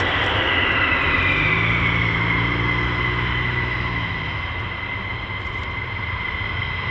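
F-15 or F-35 military jet taxiing toward the runway end at RAF Lakenheath, a loud steady whine and rumble with a slowly shifting high tone, sustained close by without talk.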